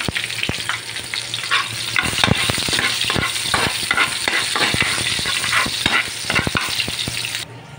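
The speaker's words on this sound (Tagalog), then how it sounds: "painit ako ng mantika guys. Lagay ko ng garlic. At isabay ko naman yung onion." Garlic and onion sizzle and fry in hot oil in a pan, with a steady loud crackle broken by repeated stirring scrapes and utensil knocks throughout, no talking.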